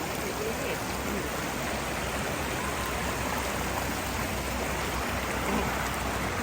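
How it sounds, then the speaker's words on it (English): Water rushing steadily at the top of Multnomah Falls, a dense, continuous roar of flowing stream and falling water, close and loud throughout with no break. "That's the top of the waterfall right here."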